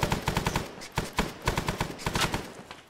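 Rapid automatic gunfire rattles in quick bursts during a firefight at a bridge in the Vietnam War game SOG Prairie Fire, close, sharp reports in several volleys with short gaps between them.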